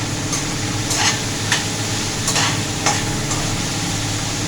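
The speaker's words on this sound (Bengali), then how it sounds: "নাড়াচাড়া করে পুঁই পিঠেগুলোকে এর মধ্যে দিয়ে দিচ্ছি।" Pui pitha being stirred into a simmering cooking dish, a steady frying sizzle broken by a few soft, regular scraping strokes of the spoon.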